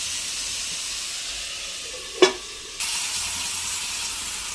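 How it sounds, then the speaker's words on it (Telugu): Onions fry in a pan under a soft, steady hiss. A sharp clack lands midway, likely a lid set down, and the sizzle then returns slightly louder and continues evenly. "ఇవి బాగా గోల్డెన్ బ్రౌన్ కలర్ వచ్చేంత వరకు ఫ్రై అవ్వాలి."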